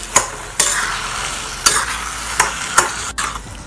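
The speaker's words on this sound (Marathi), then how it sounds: "यामध्ये चवीप्रमाणे मीठ टाकून त्याला हलकसं परतून घेऊया।" Mashed eggplant with salt being sautéed in a pan for Khandeshi bharit, a sharp scrape of a spoon against the pan every second or so over a close, steady sizzle; no voices.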